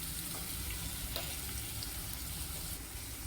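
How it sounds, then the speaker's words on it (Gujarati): Onion, green chilli, tomato and peas sauté in a pan, giving a continuous crackling sizzle with light stirring scrapes, close but fairly soft, with no voices. "ડુંગળીને બરાબર સાતડી લેવાની છે ત્યારબાદ આપણે મરચું અને ટમેટું એડ કરીશું"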